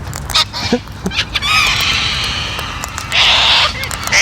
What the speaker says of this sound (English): Like this wild corella here.